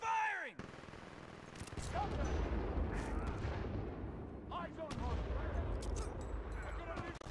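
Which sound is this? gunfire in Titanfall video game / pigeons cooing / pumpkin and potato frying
gunfire in Titanfall video game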